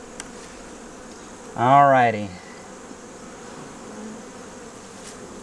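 A honeybee near a hive frame of capped brood buzzes close to the microphone in one swelling, wavering burst lasting under a second, over faint background hum, with a brief spoken remark.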